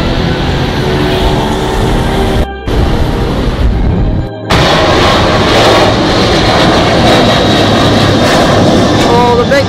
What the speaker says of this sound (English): All the big planes going out.